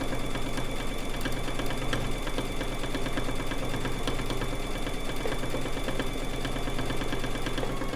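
A domestic sewing machine runs continuously during free motion quilting, a dense, steady mechanical whir and rattle throughout with no pauses.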